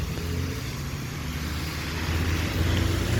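Steady traffic on a main road in Armenia, Colombia on a rainy day, with buses, cars and motorcycles passing. A continuous low rumble swells slightly toward the end as a vehicle draws closer.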